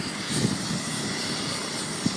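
An emergency helicopter flying low as it comes in to land, a steady droning engine hum at moderate distance with faint thumps.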